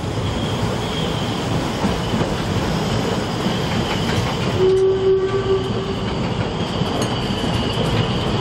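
Steam locomotive 99 4511 of the Rasender Roland narrow-gauge railway on Rügen rumbles steadily nearby with a brief horn-like tone in the middle, rolling mechanical noise continuing throughout without voices.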